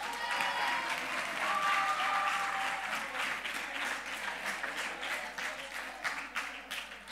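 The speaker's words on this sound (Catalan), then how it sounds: "un aplaudiment per vosaltres" An audience at a Catalan digital-culture event applauds steadily for several seconds. The dense clapping from the crowd is moderately loud and thins slightly toward the end.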